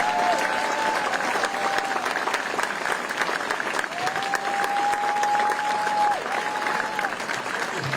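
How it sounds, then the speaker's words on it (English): An audience gives sustained applause to the head of the Medal of Honor Society: dense, even clapping that holds steady for the whole stretch, with a faint whistling tone drifting above it. "let's give him a huge round of applause"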